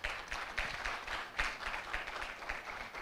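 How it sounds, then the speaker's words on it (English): Round of applause from an audience at a business series event, steady dense clapping sustained throughout at moderate distance with no voices over it. "A round of applause for UBA."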